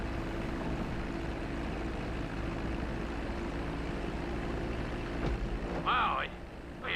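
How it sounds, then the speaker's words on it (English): A propeller airplane taxis toward hangars in the Grand Theft Auto 5 flight school, a steady, even engine drone with a low tonal hum, joined by a couple of brief higher chirps near the end. "I already landed the plane and I was taxiing to like the hangars"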